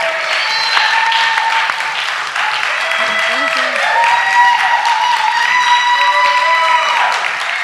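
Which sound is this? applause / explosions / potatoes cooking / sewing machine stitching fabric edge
applause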